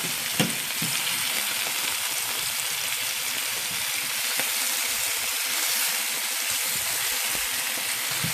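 Spare ribs frying in their own rendered fat with no added oil, a steady close crackling sizzle with dense spatter and occasional louder pops throughout.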